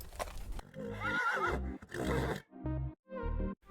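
A wild stallion neighs loudly and close, a shrill whinny followed by lower snorting, huffing bursts with short gaps between them.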